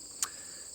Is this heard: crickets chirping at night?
yes